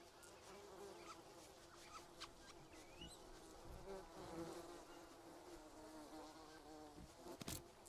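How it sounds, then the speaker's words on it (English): Bees buzzing in the jungle survival game Green Hell, a faint continuous drone with passing wing-hum swells over quiet forest ambience. "I think I hear bees."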